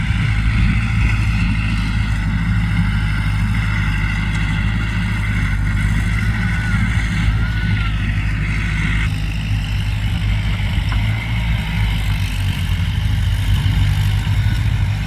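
Loud, steady rumble of a Kubota L4708 tractor engine running close by, a constant low drone that holds without a break throughout.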